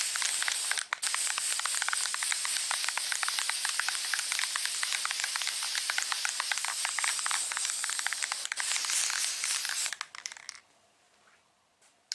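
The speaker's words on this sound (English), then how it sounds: "Flat black spray paint." Steady hissing spray of an aerosol can of flat black spray paint used as a guide coat on a fiberglass dashboard repair, running about ten seconds with a couple of brief breaks, then stopping into quiet.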